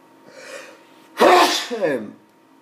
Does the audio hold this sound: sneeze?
yes